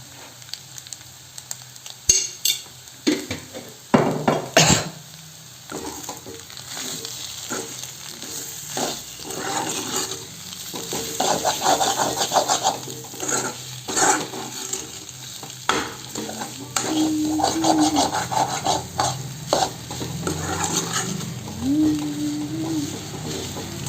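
Egg fry being stirred in a hot pan, with a spatula scraping and clattering in bursts over a steady sizzle of frying, close and fairly loud, with faint voices now and then.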